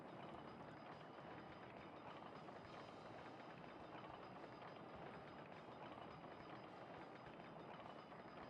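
Eight roller coaster trains in the OpenRCT2 game run together as a continuous, dense rumble with rattling clatter, steady and fairly quiet throughout. Nobody speaks.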